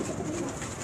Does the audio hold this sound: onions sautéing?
no